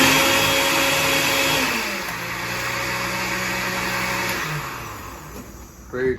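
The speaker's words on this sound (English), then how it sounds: "Very quick blend, nothing too special." An electric blender whirs close and loud as it blends protein French toast batter, its motor pitch dropping partway through before it winds down and stops after about six seconds.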